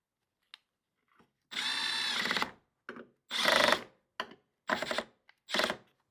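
A power tool drives bolts back into a Toro push mower, with several short whirring bursts separated by pauses, heard close and loud with no talking.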